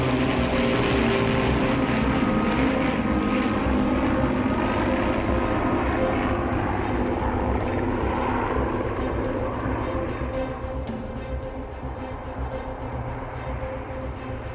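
Deep, droning multi-engine propeller roar of the B-17G bomber Sally B flying overhead, loud and steady with a layered engine hum that slowly fades a little as it passes.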